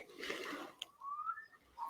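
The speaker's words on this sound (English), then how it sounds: "there's a couple of water birds just in the background singing quite nicely" Faint water bird calls with a rising whistled note drift in from a distance over a soft rushing background, no one speaking, near a Finnish sauna cottage.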